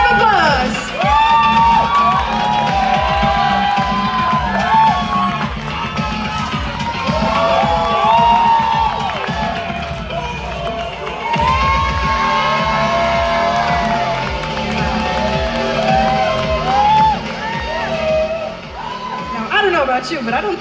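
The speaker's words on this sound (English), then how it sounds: "Big round of applause." A convention audience at WinterCon 2023 cheers, whoops and shouts loudly and continuously as a guest is called up to the stage. The crowd noise stays dense and close for the whole stretch.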